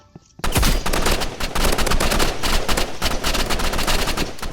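Rapid automatic assault rifle fire in the Roblox shooter Rivals, a loud sustained burst of fast shots starting abruptly after a brief quiet moment and continuing without pause to the end.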